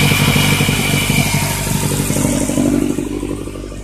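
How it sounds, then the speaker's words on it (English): A misfiring turbocharged Honda Civic D16Y7 engine runs close by with a rough, clattering drone and light revving that eases off slightly toward the end. "I don't want to rev it up too high."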